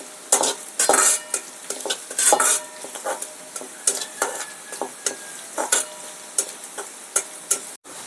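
Green chili, garlic and turmeric fry in a pan with light sizzling and repeated stirring scrapes, a close run of short bursts at an uneven rhythm.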